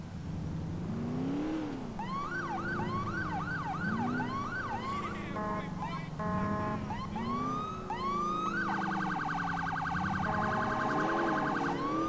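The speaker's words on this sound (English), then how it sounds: "The siren's just a bit quiet." A police car siren in the video game GTA IV wails and yelps continuously, switching between rising whoops, rapid warbles and a steady high tone over a constant engine drone.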